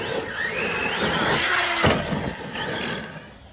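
Small Tekno ET48 RC buggy engine whining across a dirt motocross track, a steady high-pitched drone with rising and falling pitch sweeps and a brief sharp burst near the middle, moderately loud and fairly close with no talk.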